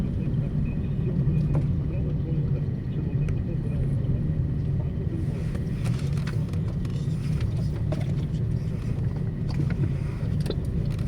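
A car drives wide around a roundabout to turn back, its engine and road noise a steady low rumble from inside the cabin, with muffled talking at moments.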